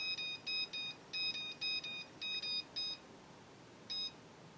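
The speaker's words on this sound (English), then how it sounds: "You've been watching this thing beep too much right now." A Milwaukee 2200-20 non-contact voltage tester checking a faulty cord gives a series of short, high electronic beeps in quick clusters of two or three, then a pause and one last beep, fairly faint over a quiet background.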